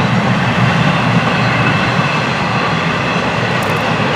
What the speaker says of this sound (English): Notice this train picking up speed now as they leave the work zone.